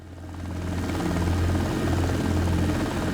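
A helicopter hovering in the flight simulator game X-Plane 12, a steady close rotor drone with a low rhythmic thump that swells briefly at the start and then holds constant, with no talk.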